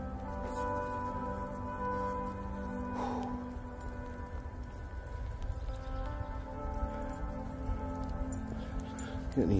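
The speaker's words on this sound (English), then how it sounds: "kind of sleet a little bit right now." Mixed sleet and rain falling outdoors on a winter day, a steady soft patter with a low rumble under it and occasional faint bird calls, with no talk.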